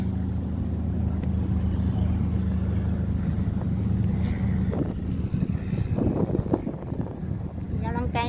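A tugboat tows cargo barges along the river at Ayutthaya in Thailand, its engine a steady low drone throughout, with wind and water wash rising over the final seconds.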